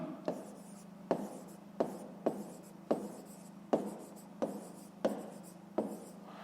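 Handwriting on paper during a fifth-grade maths exercise: a steady series of about nine crisp, evenly spaced pen strokes, close and clear, with no voices.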